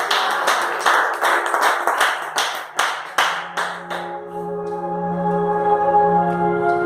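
Congregation at a Pentecostal church service claps in a burst of loud, rhythmic applause for about four seconds, then fades as a sustained organ or keyboard chord rings on alone.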